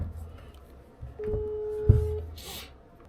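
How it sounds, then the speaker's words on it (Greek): A telephone call being dialed, with a faint steady electronic tone lasting about a second over low background rumble and a brief click. "Οπότε πάμε να πάρουμε μαζί ένα τηλέφωνο τον Σταύρο να μας πει τι ακριβώς έγινε"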